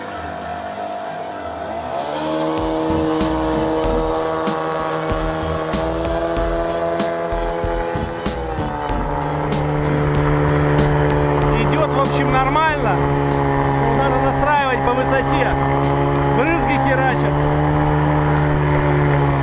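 A motorboat runs while a rubber water intake is tested, its engine rising from idle to a loud, sustained drone with steady harmonic whine and shifting pitch as it revs, with water noise and wind rushing underneath.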